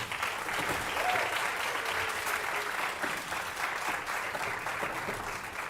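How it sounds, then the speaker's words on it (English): Audience applauding ensemble players after a concert of new compositions, steady sustained clapping from a seated crowd, fairly faint and even throughout, with a few brief voices underneath. "Let's give them a round of applause."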